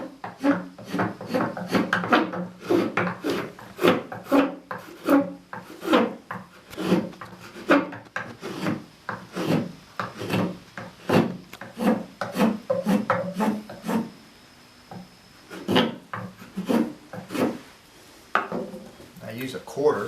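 Wood on the knuckle of a chair handhold is smoothed with a hand tool, a long series of rhythmic rasping strokes, close and steady with a brief pause, while someone talks over the work.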